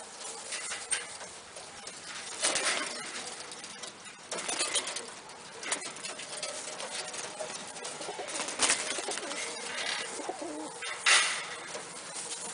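Birmingham Roller pigeons coo in a loft, soft throaty calls repeating at a steady pace over a rustling, busy background of wings and movement, with no talking.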